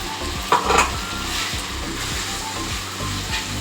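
Spice paste for a vegetarian dish frying in a pan, a dense steady sizzle with a few soft stirring scrapes and knocks, close and continuous, no talk.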